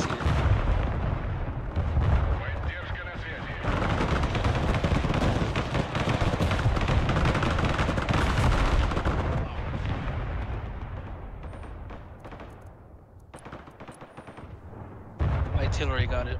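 Artillery in the war game Broken Arrow pounds in a dense, continuous barrage of heavy booms and rumbling blasts, loud and close, easing briefly before another burst.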